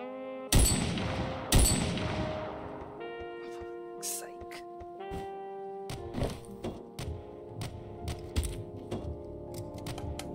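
Enemy gunfire in the Of Murder and Moonshine game, with two loud shots early on followed by a string of sharp, lighter cracks and clicks over a sustained musical tone.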